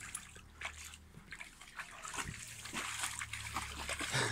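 A dog splashes and sloshes about in water, with irregular trickling and splattering bursts close by and growing louder toward the end, over a steady low background hum.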